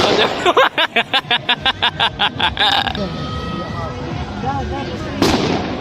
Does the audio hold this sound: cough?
no